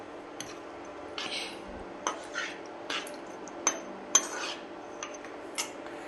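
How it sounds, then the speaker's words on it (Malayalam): Fish curry with chili powder being stirred in a pot, with a series of sharp spoon clinks and scrapes against the metal at an irregular pace and quiet background between them. "മുളക് പൊടിയും ഇതെല്ലാം ഒന്ന് ഇളക്കി ഒന്ന് സെറ്റ് ചെയ്യുവാണേ"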